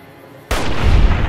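Laser turrets in the game Fallout New Vegas open fire with a sudden burst that cuts in after a quiet stretch and then continues as loud, dense, rapid shots.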